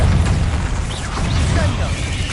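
A Bombarda spell blast in Hogwarts Legacy, a dense, loud rumbling burst with heavy low-end weight that sustains through the whole moment rather than a single sharp crack.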